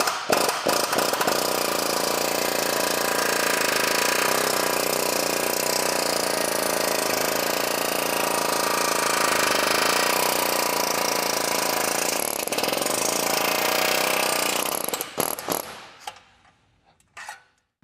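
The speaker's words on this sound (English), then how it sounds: "Let's go ahead and do a destruction test on it to determine how good the spot welds are." A spot weld destruction test on an aftermarket Ford F-150 radiator support, with a loud continuous grinding, hammering mechanical roar that holds for about fifteen seconds before breaking into a few bursts and stopping.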